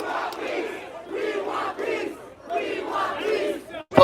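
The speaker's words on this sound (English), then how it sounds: "The crowd is chanting, "We want peace."" A protest crowd at a Rhode Island demonstration chants a repeated rhythmic slogan, voices rising in unison across several cycles, loud and close, with a sharp louder burst at the very end.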